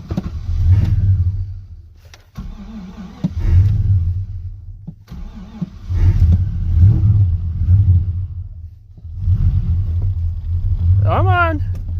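A pickup truck engine cranks and catches after a boost in about -29°C cold, then rumbles and revs in loud, repeated surges close by as someone talks.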